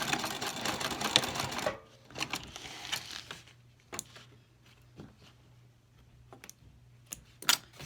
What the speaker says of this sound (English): I'm going to lock the stitches in place first